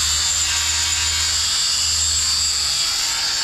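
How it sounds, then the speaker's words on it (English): A power grinder works a wrought iron fence outdoors, a loud, steady high-pitched whine running continuously throughout with a low rumble beneath. "I got to grind this a little bit"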